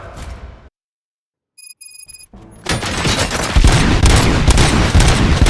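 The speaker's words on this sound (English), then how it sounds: "Gunshots? What's going on?" Gunfire in the video game RoboCop: Rogue City opens as loud, dense bursts after a brief silence and some electronic beeps, then carries on as a sustained barrage of close shots.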